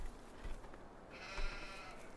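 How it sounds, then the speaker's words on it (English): Sheep in Farming Simulator 15 give a short bleat partway through, a sustained nasal call over quiet game ambience, fairly close and alone without talk. "Open this up, and we find our sheep."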